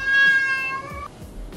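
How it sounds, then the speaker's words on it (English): A cat meows in a drawn-out, tonal cry lasting about a second, close by, followed by soft rustling and quiet handling noises. "Ace, why are you meowing?"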